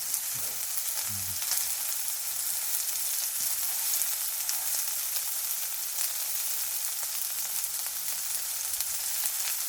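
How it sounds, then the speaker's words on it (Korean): Meat sizzling loudly on a hot grill at a campsite, a dense steady crackle like rain throughout, close up, with faint occasional clinks and no speech. "고기 굽는 소리가 비 오는 소리랑 비슷한 것 같아."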